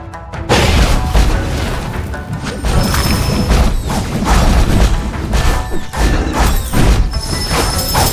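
Explosions and crashing impacts in the video game Zengeon, a loud sustained stretch of booming bursts and smashes with repeated thuds and clatter, following a brief quiet moment at the start.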